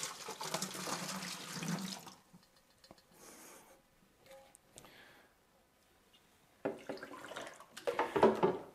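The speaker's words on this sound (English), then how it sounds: "we're going to go ahead and dump that into our bottling bucket." Cooled priming sugar solution pours into a plastic homebrew bottling bucket, a splashing water burst at the start, a quiet gap with small knocks, then more close pouring and splashing at the end.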